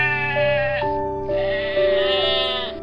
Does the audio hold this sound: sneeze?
no